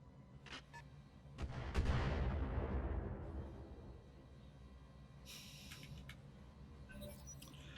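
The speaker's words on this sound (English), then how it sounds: "That seemed like mortars." Mortar fire in the RogueTech BattleTech mech game, a few sharp reports followed by a heavy, booming impact whose rumble swells and slowly fades, with faint clicks and bursts afterward at low overall volume.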